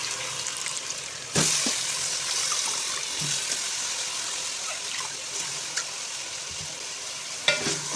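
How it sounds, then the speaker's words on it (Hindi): Soaked, drained rice being stirred into vegetables frying in a pot for veg biryani: a steady hiss and sizzle with scraping stir strokes and an occasional sharp clink of the spoon against the pan, with no talking. "चावलों को एक दफ़ा वेजिटेबल्स के साथ अच्छी तरह से मिक्स कर देंगे।"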